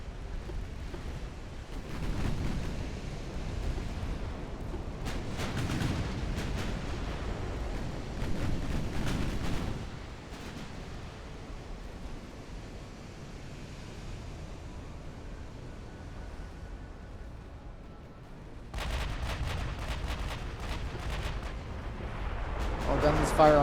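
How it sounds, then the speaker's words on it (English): Heavy naval guns booming in the warship battle game Ultimate Admiral: Dreadnoughts, with several loud bursts of shellfire rumbling over a steady sea-and-engine din and a voice talking at moments. "All guns fire on that target."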